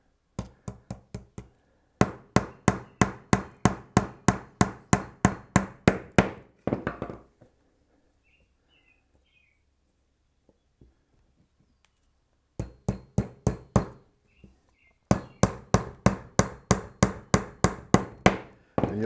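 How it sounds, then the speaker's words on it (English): Hammer blows drive brad nails into a wooden beehive frame, landing in rapid, evenly spaced bursts of a dozen or so sharp knocks, close and loud, with a quiet pause in the middle. "As we drive this down in there, the friction that is created from driving this nail heats the glue up on the nail"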